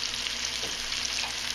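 Dandelions frying in oil in a new deep fryer, a steady close hissing sizzle with faint bubbling that holds evenly throughout, no voices.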